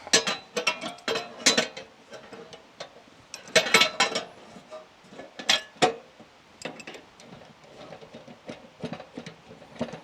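Pots and pans are pulled out of a cupboard, a series of close, sharp metallic clanks and rattles in irregular bursts with short quiet gaps.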